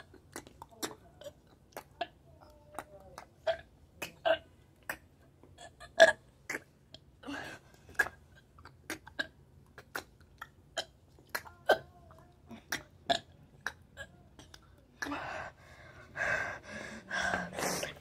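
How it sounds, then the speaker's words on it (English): A series of short, separate burps and gulping throat sounds, made for effect, pop out one after another close to the mic, ending in a denser cluster of rougher belches. "So that was my burping sound effect"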